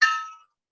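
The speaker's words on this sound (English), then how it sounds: "ring the bell there." A single bell is struck to open a Rotary Club meeting in Newport, Oregon, one bright clear ring that decays within about half a second, heard alone.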